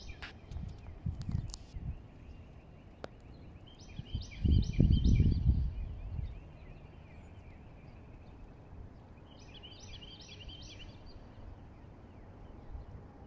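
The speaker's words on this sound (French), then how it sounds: "Tu entends le bruit des oiseaux" Birds chirp in short repeated bursts at a distance along the Intracoastal Waterway in early morning, faint over a quiet outdoor background with some low rumbling thuds nearby.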